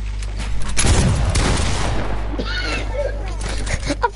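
Rapid bursts of gunfire from a gun in the Fortnite video game, loud and dense, crackling over a steady low hum.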